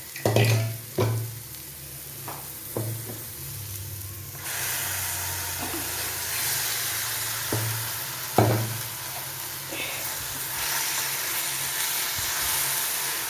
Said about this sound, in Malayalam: ഇന്നിപ്പോൾ തക്കാളി അരച്ച് ചേർക്കുക